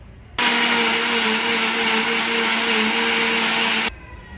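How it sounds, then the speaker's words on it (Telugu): A mixer grinder whirs loudly and steadily for about three and a half seconds, grinding edible camphor into powder, starting and stopping abruptly, with no talking. "కొంచెం కొంచెంగా పచ్చకర్పూరం మిక్సీలో వేసుకుని స్వామివారికి ఉపయోగించే మిక్సీ అనమాట ఇది వేసుకుని బాగా పొడి కొట్టుకోవాలి"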